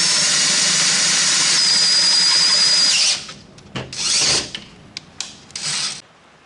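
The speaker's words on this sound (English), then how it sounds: "I'm just going to drill it and bolt it in place" A power drill whines loudly and steadily, then cuts to a few short bursts as it bites through metal, with brief pauses between.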